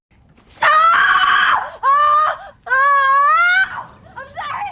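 A girl screams loudly in several long, high-pitched, wavering bursts, close up, ending in softer sobbing cries.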